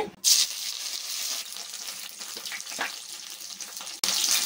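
Sharp burst of hot-oil sizzling and crackling as curry leaves hit the pan, settling into steady frying, then a fresh loud sizzle near the end.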